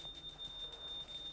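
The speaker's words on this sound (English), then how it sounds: "please ring the bell as you do so" A small ritual bell rings repeatedly during a devotional offering of water at a guru's feet, a bright sustained metallic ringing at moderate distance, fairly soft and steady.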